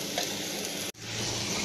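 Vegetable bhaji for parathas frying in a pan, a steady close sizzle with a brief break in the middle, no talk.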